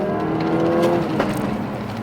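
Engine drone from a Mk3 Ford Focus RS Mountune with a Milltek catback exhaust, loud and close, broken by a couple of brief sharp pops or crackles, with no talk.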